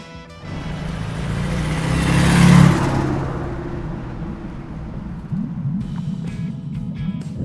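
A 1960 Ford Thunderbird, one of the Squarebirds, revs its engine close by, with a rising surge that peaks and then settles into a rougher idling rumble.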